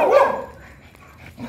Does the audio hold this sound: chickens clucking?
no